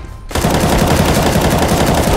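Gunfire in the video game CS:GO: after a brief quiet moment, a loud, rapid burst of automatic weapon fire erupts and continues densely to the end.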